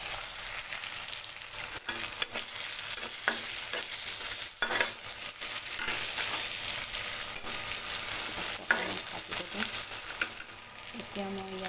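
Onion, garlic, fresh and dried chilies and panch phoron spices fry in hot oil, a steady close sizzle broken by several sharp scraping stirs of the pan.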